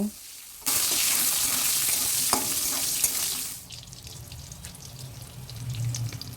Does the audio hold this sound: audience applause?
no